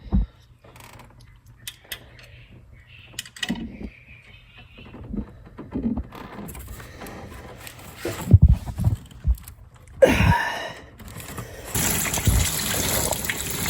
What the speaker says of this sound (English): I'm draining the coolant from the block essentially